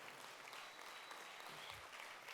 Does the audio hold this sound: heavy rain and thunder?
no